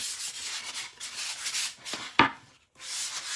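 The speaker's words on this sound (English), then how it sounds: "you're just going to take your sanding sponge and you're just going to knock it right back down" A sanding sponge rubs back and forth across wood in steady, close scraping strokes, interrupted once by a sharp knock and a brief pause.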